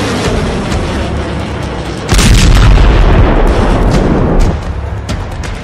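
Iranian ballistic missiles striking military sites in southern and central Israel: a loud, sustained rumbling roar of explosions that swells into a heavier, deeper booming burst midway before easing back to a distant thunderous drone.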